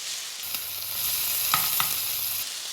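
Two steaks searing on a hot plancha or pan, a steady loud hiss of frying fat heard up close and alone, with a couple of small pops partway through.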